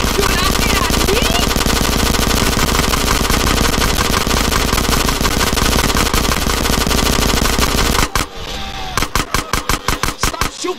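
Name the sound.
machine gun fire next to the ear, GTA San Andreas video game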